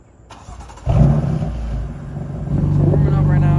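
A car engine cranks and catches, then settles into a steady, loud idle as it warms up before a car meet, close to the listener.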